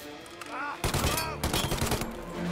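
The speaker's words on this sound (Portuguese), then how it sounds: "Quem tá me atirando aqui agora?" Rapid gunfire aimed at the player in the game Mafia Definitive Edition, loud, dense bursts of shots clustered together over a low rumble after a quieter opening with faint background sounds.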